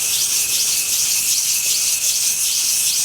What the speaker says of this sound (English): Get some 80 grit sandpaper. All you're going to do is just go in circles